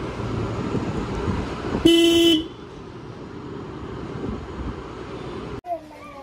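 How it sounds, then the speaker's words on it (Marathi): A single loud car horn blast of about half a second cuts through engine rumble and background voices. "हॉर्न वाजव"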